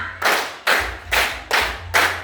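A classroom of students claps together on command, five sharp unified claps spaced about half a second apart, loud and close with no talk over them.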